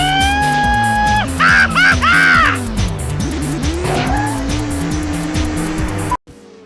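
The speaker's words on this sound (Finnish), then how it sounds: "kun auto tulee hypystä alas ja koskee tienpintaa, niin kumit vähän ulvahtaa ja sitten jousitus pikkasen tolleen keinuttaa" Tires squeal in the Fatal Racing video game as a car lands from a jump, sharp rising screeches over a steady droning engine with bumps and skids, loud and close, then a sudden cut to silence.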